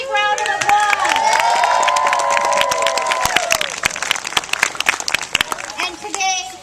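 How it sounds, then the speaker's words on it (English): A crowd at a school green space ribbon-cutting assembly claps loudly for the architects and an alumni family, with a few whoops and children's voices over the sustained applause, which tapers off near the end. "Big round of applause"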